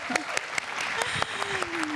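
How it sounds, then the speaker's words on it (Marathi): Audience applause on a Marathi comedy show stage: a brisk run of claps under and alongside a voice and musical tones, fairly close and moderate in level. "जोरदार टाळ्या सगळ्यांसाठी."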